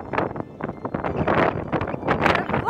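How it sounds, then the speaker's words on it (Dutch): Gusty wind buffets a microphone outdoors by the water near a railway platform, loud irregular blasts and rustling surging in waves with no clear voices. "Het waait!"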